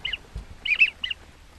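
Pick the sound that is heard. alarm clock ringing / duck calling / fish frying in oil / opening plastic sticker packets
duck calling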